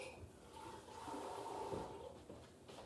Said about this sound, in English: I'm gonna rinse out my shaker.